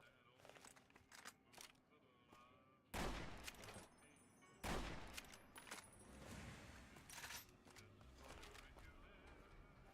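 Grenade launcher fire in a shooter video game, with two loud bursty blasts a couple of seconds apart amid clattering game noise and talk throughout.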